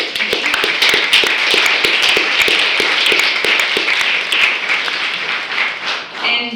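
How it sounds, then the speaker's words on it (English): Audience applause at a 30th-anniversary community gathering in Amherst, a steady crowd of hands clapping with a few sharper individual claps standing out, continuing evenly before tapering at the end. "a round of applause to the organizing committee"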